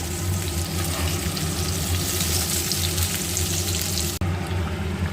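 Potatoes and pointed gourd sizzle steadily in hot oil in a pan, a continuous near crackle that briefly drops out near the end.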